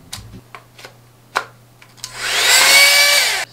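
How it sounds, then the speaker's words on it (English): A handheld blow dryer starts up after a few soft clicks and taps, then blows with a loud, steady, close whoosh for about a second and a half. "I got my blow dryer right here."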